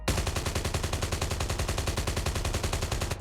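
A loud, steady stream of fully automatic M4 rifle fire in Call of Duty Mobile, with evenly spaced rapid shots that run unbroken for about three seconds, close and dry, with no talking.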